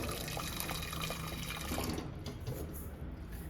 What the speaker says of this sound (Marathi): त्याच्यासाठी गरम पाणी टाकते थोडं खाली